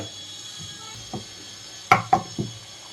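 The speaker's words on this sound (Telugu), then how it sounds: "క్లీన్ చేశాకే కట్ చేస్తున్నాను నేను" Cleaned taro roots being cut into medium pieces with a knife on a board, a few faint taps early on and then three sharper, louder chops close together near the end in an otherwise quiet kitchen.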